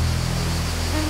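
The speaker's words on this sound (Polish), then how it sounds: "czy szum spadającej wody, czy też drące się niezwykle cykady" Rushing water from a mountain stream by old mills in highland Herzegovina, Bosnia, a steady dense broadband roar filling the short stretch, with a faint high buzz that may be cicadas.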